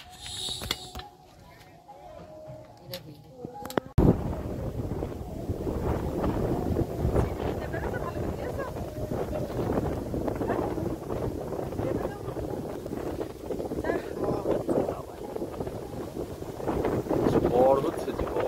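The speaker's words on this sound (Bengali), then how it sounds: "ঝোড়ো হাওয়া একদম।" Strong stormy wind in the Sundarbans, a sudden loud, sustained roaring gust that sets in after a quiet opening and keeps buffeting the microphone, with creaks, rustles and faint voices beneath.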